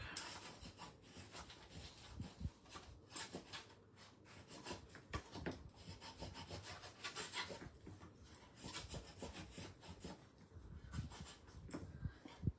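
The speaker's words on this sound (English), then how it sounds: "get your bone folder and really burnish that score line and make sure that's flat and stuck" Bone folder burnishing a paper score line on a treat box, a soft repeated close rubbing and scraping in quick strokes, faint and alone.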